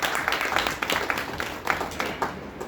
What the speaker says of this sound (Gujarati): આપણા બધા માટે એકવાર જોરદાર તાળીઓ થઈ જાય